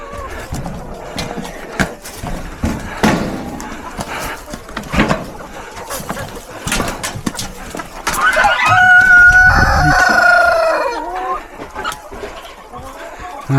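Chickens in a backyard coop cluck and squawk in short bursts, then a rooster crows loudly and close for a couple of seconds midway, with scattered rustling around them.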